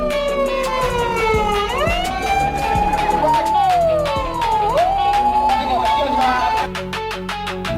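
A Japanese police car siren wails loudly and up close, its pitch sweeping up and down in repeated rising and falling cycles before settling into a steadier tone near the end.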